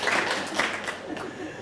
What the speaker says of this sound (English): Please give me a big hand clap for Sheffield.